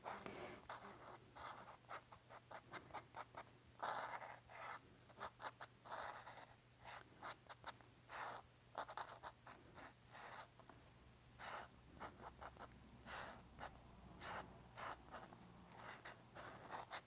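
Pen nib scratching across paper as flower petals are sketched in ink, a run of short quick strokes in an uneven rhythm, close and fairly quiet, over a faint steady hum.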